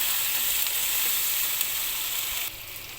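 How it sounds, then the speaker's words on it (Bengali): Turmeric and chili powder sizzle steadily in hot oil in a frying pan while being stirred for a fried brain dish, a bright continuous hiss that drops slightly toward the end, with no talking. "দিয়ে দিচ্ছি হলুদের গুঁড়া পরিমাণ মতো আর মরিচের গুঁড়া। এখানে সবগুলোকে আমি একটু নেড়ে মিশিয়ে নেব।"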